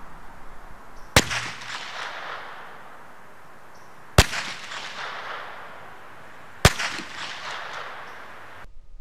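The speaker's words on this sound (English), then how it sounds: "The muzzle blast and bullet flight noise is easily heard from 50 yards away." Three sharp, evenly spaced cracks from a suppressed .22 rimfire pump-action rifle, each a loud muzzle blast with a ringing decay, heard from about 50 yards away in open air with no talking.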